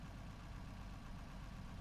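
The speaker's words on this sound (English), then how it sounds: "I'll start the engine." Tractor engine idling steadily in Farming Simulator 25, a low continuous rumble that holds at an even level throughout with no speech over it.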